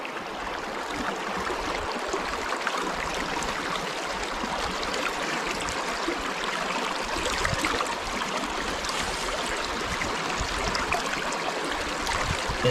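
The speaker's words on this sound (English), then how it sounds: "it looks like the sluice is still running really good" Water rushes steadily through a gold sluice at a California Mother Lode prospecting site, a continuous close, even wash of flowing and trickling water with no talking.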